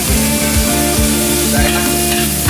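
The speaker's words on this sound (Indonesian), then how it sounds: "kita aduk sampai rata" Sichuan-style green beans are stirred in a hot pan under a loud, continuous sizzle, with rhythmic scraping strokes of the utensil repeating every half second or so.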